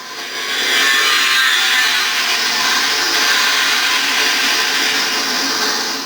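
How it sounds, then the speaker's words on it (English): A Millennium Falcon hyperdrive sound effect played through a guitar amp: a loud, steady whooshing roar with a bright hiss, sustained for several seconds like a spaceship engine powering up, with no voices. "I think that's hyperdrive"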